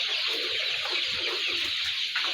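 Chickens cluck repeatedly at close range after finishing a morning feed of leaves, soft bursts of fowl calls over a steady, hissy farmyard background.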